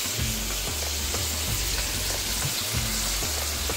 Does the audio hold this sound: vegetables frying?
yes